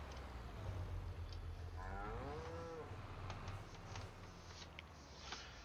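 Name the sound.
cow mooing in Farming Simulator 25 video game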